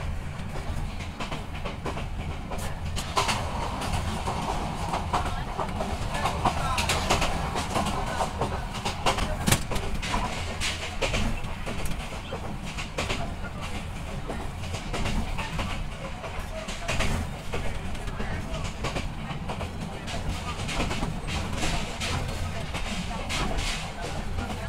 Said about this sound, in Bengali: বন্ধুরা, আমাদের ট্রেনটি এখন আউলিয়ানগর থ্রুপাস যাচ্ছে।